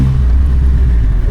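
Steady low rumble of a Triumph Rocket 3 motorcycle engine while riding, loud and continuous with wind noise, no talking.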